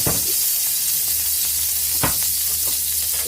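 Onions sizzle as they sauté in hot oil in a pan, a steady broadband fry hiss with a few soft stirring clicks, close and continuous with no talking.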